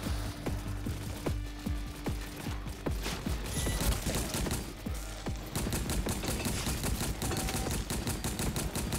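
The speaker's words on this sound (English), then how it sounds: "I'm just shooting." Fast automatic gunfire in the zombie game Welcome to ParadiZe rattles in long continuous bursts, dense and rhythmic, with moderate loudness and scattered game effects mixed in.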